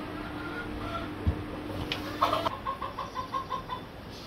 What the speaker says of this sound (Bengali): আর ওই পাশে মুরগি আছে।